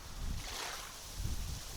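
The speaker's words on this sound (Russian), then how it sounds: "Опять ветер разгуливается сегодня." Strong wind gusting over the Yauza river in September, a steady broad rush with low buffeting swells on the microphone, loud and close, with no voices.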